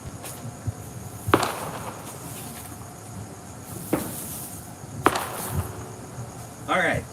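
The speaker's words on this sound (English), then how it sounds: "Wow, that's a lot of fireworks happening in the background over there." Fourth of July fireworks going off in the distance at night: a few sharp, widely spaced bangs and crackles over a steady chorus of chirping crickets.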